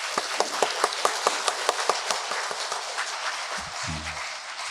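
A Catholic congregation at Sunday Mass claps, a loud quick burst of sharp, evenly spaced claps that thins and fades into scattered hand noise over a few seconds.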